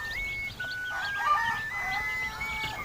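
Tiger chickens at a poultry farm in Faridpur crow and cluck almost continuously, several birds overlapping at moderate distance with no talk.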